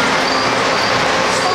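A Skokie Swift train passes close by with a steady, loud rolling rumble and faint wheel squeal, continuous throughout with no talk.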